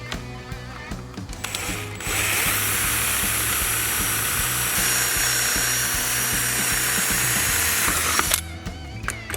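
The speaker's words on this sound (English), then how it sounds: "So now we're going to go ahead and drill our holes with a 1/4-inch drill bit." A power drill with a 1/4-inch bit bores holes in a bezel during a Toyota Tacoma TPAM installation, its whine running steady and close for about six seconds between shorter clicks and handling noises.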